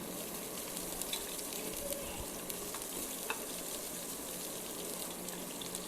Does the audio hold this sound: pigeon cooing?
no